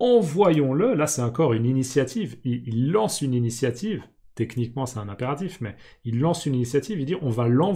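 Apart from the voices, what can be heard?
None of the usual background noises is heard.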